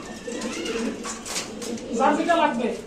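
Pigeons coo softly at a pigeon seller's in Bangladesh, a low murmuring call that runs under steady nearby talk for a few seconds.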